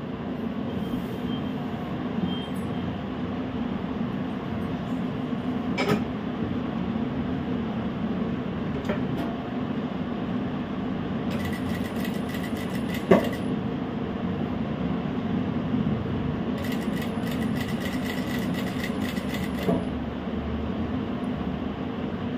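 A sewing machine stitches a cross piece of fabric onto the neckline of a baby dress. It gives a steady, close mechanical hum with a few clicks and short bursts of faster stitching, and no talk is heard.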